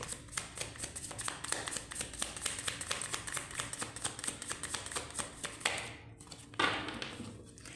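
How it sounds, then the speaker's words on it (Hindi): Tarot cards are shuffled by hand in a quiet room, a rapid run of soft riffling taps and flicks lasting several seconds, close and fairly faint, ending in a couple of brief rustles. "ओके, मैं एक बार और शफल करूंगी"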